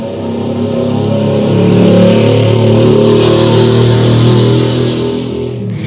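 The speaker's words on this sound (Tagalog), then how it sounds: "ang ingay ng motor" A motorcycle engine runs nearby, loud and steady with a gradual swell in the middle, as if passing or revving gently, then easing off at the end.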